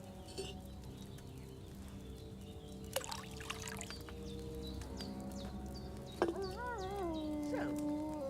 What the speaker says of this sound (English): Don't worry, I poured wine in there.